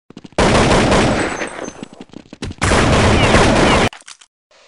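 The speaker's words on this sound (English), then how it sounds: "shots fired" Rapid automatic gunfire in a Counter-Strike match, two long sustained bursts of loud rattling shots separated by a brief gap with scattered single shots.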